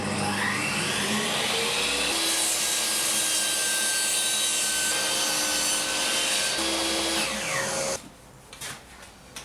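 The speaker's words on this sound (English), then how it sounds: "So I checked it with my table saw" A table saw rips through wood in one loud, continuous whining cut lasting about eight seconds, its pitch dipping slightly under load, before the blade spins down and the workshop goes quieter.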